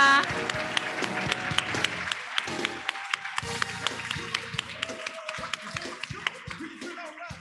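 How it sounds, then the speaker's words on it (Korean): An audience at the 2022 quantum information competition award ceremony claps for a winning team, with a steady patter of applause and sharp individual claps throughout. "큰 박수 부탁드립니다. 축하드립니다."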